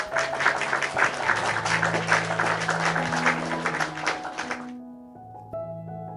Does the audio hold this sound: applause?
yes